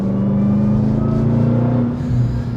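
A 2026 Dodge Durango Hellcat engine drones loudly and steadily from inside the cabin as the SUV drives, a deep constant rumble with a slight shift in pitch near the end.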